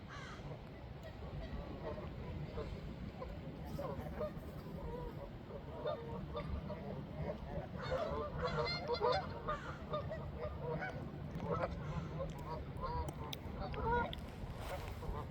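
Hundreds of ducks at a pond in breeding season make a dense, distant chorus of overlapping quacks and honks, a constant outdoor murmur with calls rising here and there.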